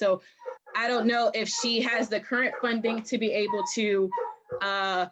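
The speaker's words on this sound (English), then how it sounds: "I'm sorry for my dog." A dog at home during a budget work session meeting, giving brief yips and whimpers mixed in under a person talking continuously over a call.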